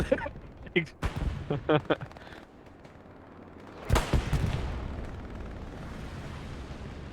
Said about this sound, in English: There's that artillery there.